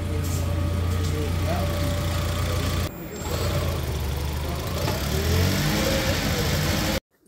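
A misfiring Toyota Auris hybrid with 300,000 km idles close and loud with an uneven, stumbling rumble, briefly dipping and recovering, while a voice talks over it.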